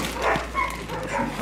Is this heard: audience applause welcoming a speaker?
no